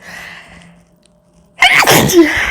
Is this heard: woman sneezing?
yes